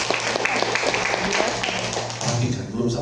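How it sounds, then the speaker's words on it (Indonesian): A church congregation briefly applauds during a sermon, scattered claps breaking through over a speaking voice. "Boleh tepuk tangan dulu."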